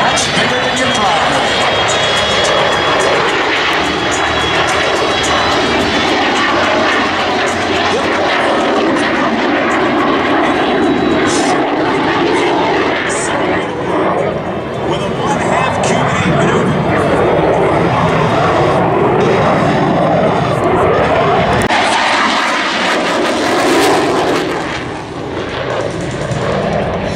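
Warbird aircraft landing with its tail hook extended at the Sun 'n Fun 2012 air show, a continuous loud engine roar and rushing noise filling the whole stretch, with a crowd and voices faintly mixed in beneath it.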